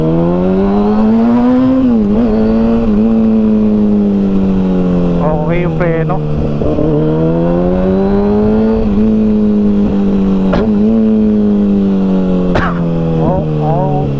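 A 2009 Kawasaki ZX6R motorcycle on a test ride, its engine loud and close, revving up and down through several rising and falling pulls, with a voice speaking briefly over it.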